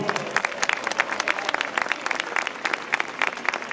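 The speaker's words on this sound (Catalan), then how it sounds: "Un aplaudiment per tots els nens, sisplau." A crowd applauds steadily throughout for children at a Three Kings' ambassador arrival event, a dense patter of many hands clapping at moderate loudness.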